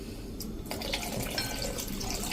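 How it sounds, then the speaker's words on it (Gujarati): Water is poured into a pot of besan curry, giving a soft splashing and trickling that is faint and sits under a quiet background, with a short break partway through. "અત્યારે મેં ટોટલી 2 ગ્લાસ જેવું પાણી નાખ્યું છે"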